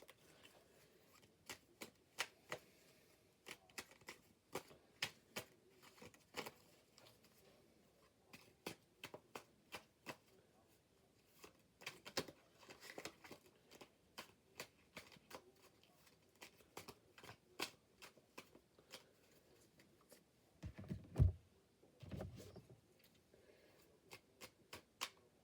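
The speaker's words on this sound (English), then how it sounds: "Then I'm going to quickly shuffle." A deck of cards, including event cards, is shuffled quickly by hand, producing rapid, crisp riffling clicks and flicks in bursts with brief pauses, close and quiet, plus a couple of louder handling bumps near the end.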